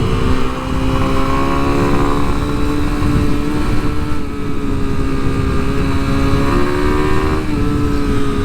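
A 2023 Kawasaki KLX300 SM motorcycle engine revs steadily while riding, a loud, close, continuous drone with rising and falling pitch and no pauses, heard on its own.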